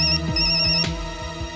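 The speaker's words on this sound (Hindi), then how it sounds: "ये ले, फोन का नाम लिया और फोन आ गया।" A phone rings loudly and close in a tense crime-drama scene, with bright repeating tones broken by a few sharp low thuds, and no voices.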